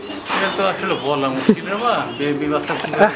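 Pigeons coo at a large pigeon farm in North Bengal, their repeated rolling calls close and loud, mixed with people talking nearby.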